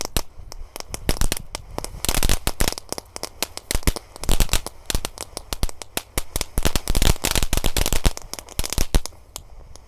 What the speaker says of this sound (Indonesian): eksperimen menyalakan mercon di kubangan air